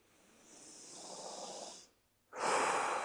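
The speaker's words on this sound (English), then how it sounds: "Forced big breath out" Two forceful exhales during a breathing exercise, the first a long steady rush of breath of about two seconds, then a short pause and a louder, harsher burst of air, close and unaccompanied by any voice.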